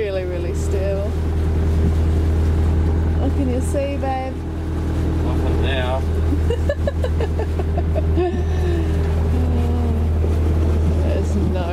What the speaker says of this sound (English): we've got the engine running because it's really, really still